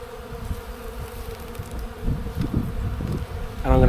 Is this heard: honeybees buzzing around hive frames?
yes